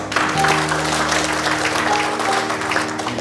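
Audience applause at a Kita Cinta Papua programme launch ceremony, a steady wash of clapping from a crowd that carries on for the full few seconds, with a faint hum beneath it.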